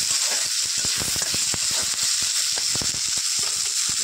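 Potatoes frying in oil give a steady, close sizzle, a dense hiss flecked with quick irregular crackles and pops that keeps going without a break.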